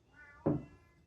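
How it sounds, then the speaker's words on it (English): A single cat's meow rises and falls in about half a second against a quiet indoor room, with a faint tonal hum in the background and no talk. "Hey, cat. Meow."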